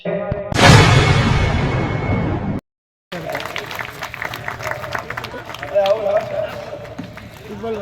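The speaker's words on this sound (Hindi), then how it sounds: "आप जोरदार तालियों से जिन जिन मेहमानों का इस्तकबाल हो" Mushaira audience in Ahmedabad gives loud, dense applause welcoming guests, in a sustained burst that cuts off abruptly, followed after a brief gap by scattered clapping and crowd murmur.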